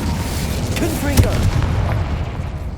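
Confringo explosive spell in Hogwarts Legacy, a sharp booming burst amid steady rumbling game noise, with a few smaller thuds trailing after the main blast.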